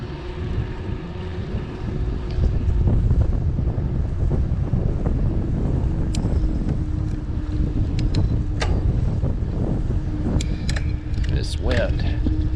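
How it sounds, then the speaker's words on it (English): Steady wind buffeting a microphone during a 26-mile New Year's Day road bike ride in Pine Mountain, Georgia, a loud continuous low rumble with faint intermittent sounds and bits of voice beneath it. "Wind."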